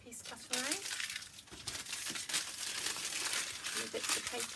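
Paper pattern sheets for sewing a princess-line garment crumple and crinkle as they are moved aside, a close, busy rustling that runs steadily through the clip, with a voice speaking over it.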